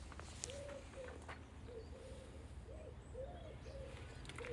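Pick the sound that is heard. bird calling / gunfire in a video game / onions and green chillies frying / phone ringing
bird calling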